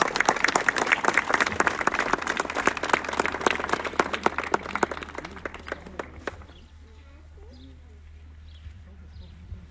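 A crowd applauds loudly at an indigenous leader's swearing-in ceremony in Zinacantepec, with dense clapping for about six and a half seconds, then a sudden drop to quieter background with a low hum, faint voices and a few chirps.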